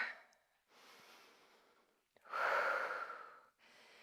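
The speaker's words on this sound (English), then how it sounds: "Deep breathing." Deep, heavy breathing during a standing resistance band workout, in three audible breaths: one soft exhale, a louder and rougher breath in the middle, then a shorter one. The breaths are close to the mic, with no talking.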